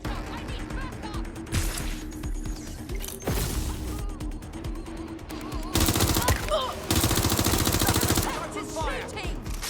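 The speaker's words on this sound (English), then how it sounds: "It's shooting." Gunfire in Watch Dogs Legion comes in loud bursts of rapid automatic shots and single cracks, separated by short pauses, close and intense with scattered impacts.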